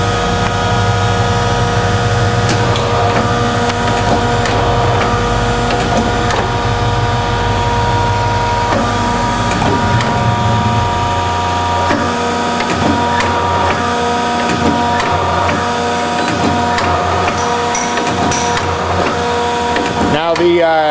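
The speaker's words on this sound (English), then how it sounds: "So we'll just go ahead and start the machine" A Denison 4-ton C-frame hydraulic press with a rotary indexer runs steadily, giving a continuous motor and pump drone with a rhythmic mechanical clatter throughout. A person talks over it, and the sound cuts off abruptly near the end.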